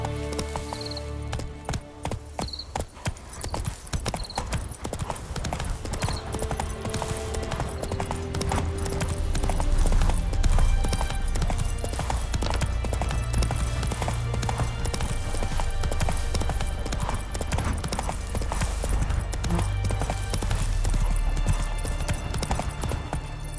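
A horse gallops in The Witcher 3: Wild Hunt video game, with rapid rhythmic hoofbeats running steadily throughout, close and continuous, with faint ambient game sounds beneath.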